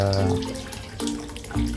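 Chlorinated tap water from the local water district pours into a backyard tilapia pond, a steady rushing flow with some low tonal sounds mixed in.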